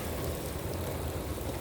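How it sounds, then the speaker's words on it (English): Heavy rain pours steadily during a flash flood, a faint, even wash of hiss and patter with no other sounds. "I can't even show you guys how bad it's raining right"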